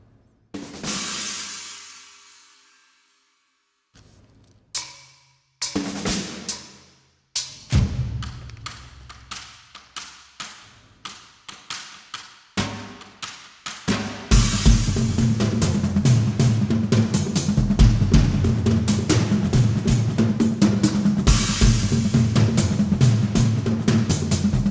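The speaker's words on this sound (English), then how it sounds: "we also have the Ape, which is apocalyptic percussion ensemble." Apocalyptic percussion ensemble sample library for an action film score: booming drum hits first spaced apart with decaying tails, then quickening into a dense, driving rhythmic pattern that plays continuously.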